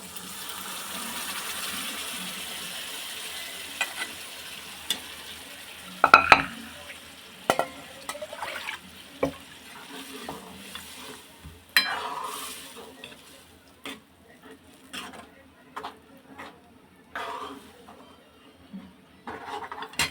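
Faint frying of cooked mung beans in a pan with tempering and coriander, with intermittent scraping strokes of a spoon stirring, including a sharp clatter early on; no voices.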